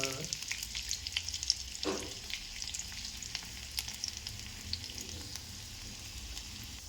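Chopped garlic frying in a hot pan gives a steady, moderately quiet sizzle with scattered crackles and a few stirring scrapes, and nobody speaks over it.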